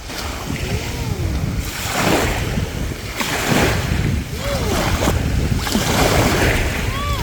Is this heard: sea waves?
yes